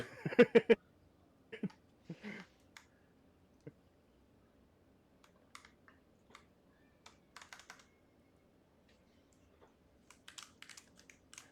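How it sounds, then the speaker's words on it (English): Loud, clacky computer keyboard typing, heard as a quick flurry of sharp clicks followed by scattered bursts of keystrokes with short pauses between them, close and alone with no talking. "Is your keyboard really loud?"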